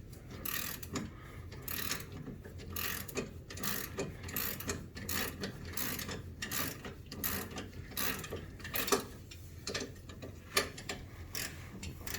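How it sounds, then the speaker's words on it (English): A ratchet wrench fitted with an extender is turned on a rear sway bar link, giving rapid rhythmic metallic clicking that runs steadily up close for about twelve seconds. "Handy dandy wrench extender."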